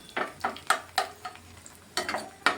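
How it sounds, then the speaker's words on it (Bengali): Dry red chillies are frying in sunflower oil for tempering, and a spoon scrapes and stirs them in repeated sharp strokes over a low sizzle, close by and with no talk. "ভালোভাবে লঙ্কাটা একটু ভেজে নিচ্ছি"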